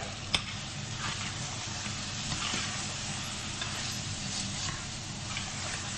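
Lamb vindaloo curry being stirred in a pan over medium heat with methi leaves and lemon juice, giving a steady close sizzle and scraping with one sharp tap near the start.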